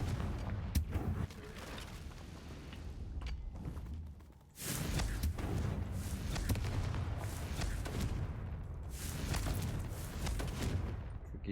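Confringo blasting spell cast in Hogwarts Legacy, with repeated loud bursting blasts and rumbling impacts, one after another amid game combat noise, including a sharp strike near the start and heavier blasts later.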